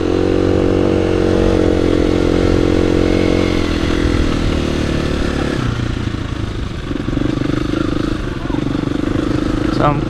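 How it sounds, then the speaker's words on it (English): A KTM 350 EXC-F enduro motorcycle being ridden at an enduro riding venue in Wales, engine droning loud and steady with shifts in pitch as it works, and a rider's voice sounding over it. "So I'm currently riding the 350 EXC-F"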